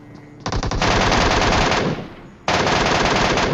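MK rifle gunfire in the mobile game PUBG Mobile, played on a tablet, rattles out in two loud, rapid bursts of shots, separated by a brief gap, close and dominant with no talking.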